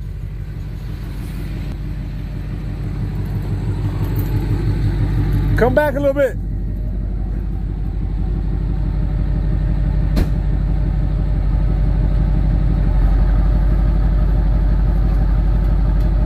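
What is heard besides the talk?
12-valve Cummins diesel truck engine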